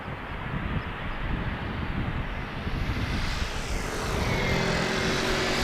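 Airliner landing at Amsterdam Schiphol on runway 18R with a small nose wheelie, heard as a distant, broad engine roar that grows louder toward the end, with no voices.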